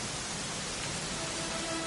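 Rain falls in the video game Dragon Quest XI, a steady, even hiss of downpour with no break, filling the scene at low volume.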